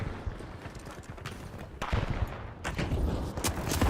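Rapid bursts of gunfire from the video game THE FINALS crackle in quick irregular volleys, mid-level and busy, growing a little louder toward the end, with no talking.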